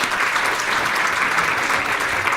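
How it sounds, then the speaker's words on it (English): A crowd at a ceremony gives a dense, sustained round of applause, with loud, even clapping throughout. "We should just give them another round of applause for it."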